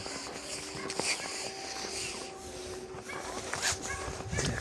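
A dog howls with a long, drawn-out, steady tone, mixed with soft whimpers, moderately distant against a hissy outdoor background in a snowy, frosty winter garden.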